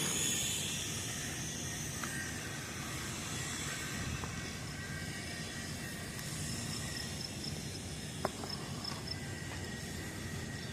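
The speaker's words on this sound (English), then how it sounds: "that train will get to Angola at the same time that you do" A train passing near a Route 5 bridge by Angola, a steady broad rumbling hiss that holds level throughout, with a brief sharp clank partway through and no voices.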